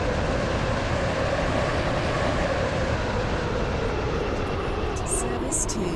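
Train from the Roblox game Stepford County Railway running steadily toward a station, a continuous loud rumble with no clear breaks, and faint high tones near the end.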